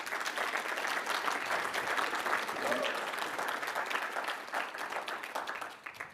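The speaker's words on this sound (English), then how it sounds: "First off, round of applause for Bill, please." Audience at a tech conference session applauding, a moderate, even patter of clapping that thins and fades toward the end, with a faint voice briefly underneath.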